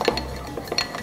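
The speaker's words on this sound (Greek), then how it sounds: "Και το ανακατεύουμε." Spoon stirring salt and olive oil in a bowl, with a few light clinks and scrapes of metal against the dish, close and fairly quiet.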